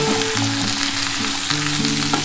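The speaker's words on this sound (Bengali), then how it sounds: "এই আলু আর ঝিঙেটা খুব ভালো করে ভেজে নিতে হবে" Potato and ridge gourd frying in hot oil, a close, steady sizzling hiss with faint clinks of the pan, no talking.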